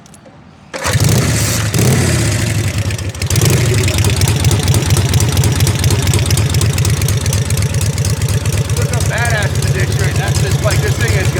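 A 1941 Harley-Davidson hard tail springer with suicide shift starts up and settles into a loud, close, steady idle with a rhythmic, lumpy exhaust pulse throughout.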